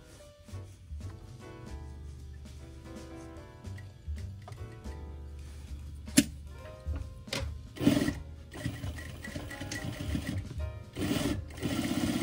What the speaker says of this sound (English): I'm just gonna go and sew, just leaving this opening.